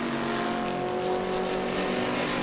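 Late-model stock race cars circling New Smyrna Speedway during a race, a steady loud droning engine roar with sustained pitched tones, continuous throughout with no voices.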